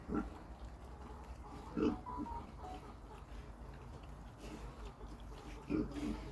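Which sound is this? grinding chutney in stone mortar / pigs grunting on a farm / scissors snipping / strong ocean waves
pigs grunting on a farm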